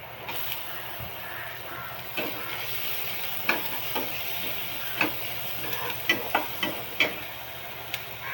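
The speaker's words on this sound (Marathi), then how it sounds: "कांदा चांगला भाजून घेऊया. कांदा भाजला तर टोमॅटो टाकूया." Onion fries steadily in a pan, a soft continuous sizzle punctuated by sharp ticks and clicks of a spatula against the pan, growing more frequent toward the end.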